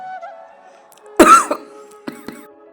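A single sharp, close cough comes first, followed by a couple of smaller throat-clearing bursts, over faint sustained background tones.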